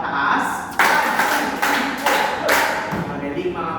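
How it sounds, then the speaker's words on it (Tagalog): Primary-school children in a classroom give a short burst of rhythmic hand claps, several sharp claps close by while a teacher's voice speaks over them. "bigyan nga ninyo ang inyong sarili ng 5 palakpak pataas."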